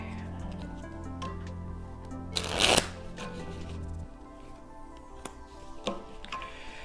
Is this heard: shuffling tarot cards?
yes